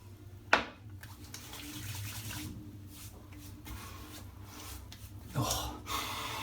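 Aftershave splashed onto a face by hand, the menthol-frosted splash landing in a sharp slap near the start and another wet pat later, over a low steady background hum.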